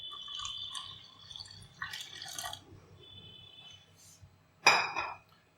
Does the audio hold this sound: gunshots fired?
no